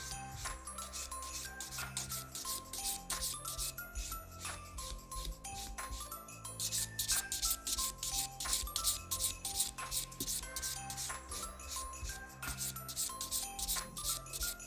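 A nail file works a square coffin-shaped fingernail, shaping the bevel toward the tip in quick, continuous scratchy strokes with small tinkling clicks, close and fairly loud with no talk.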